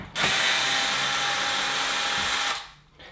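A power drill whirs loudly in one sustained burst, backing screws out of pilot holes on a Bosch integrated dishwasher, then stops abruptly and leaves near silence.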